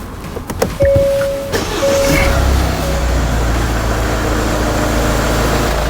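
A Hyundai Santa Fe TM SUV engine cranks over with a brief starter whine after an oil filter cap change, catches, then settles into a steady low idle that continues to the end.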